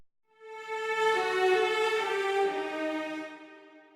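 A sampled string instrument holds a single sustained note that swells gradually out of silence with no distinct attack, rising to a full, rich tone before easing off slightly, heard alone.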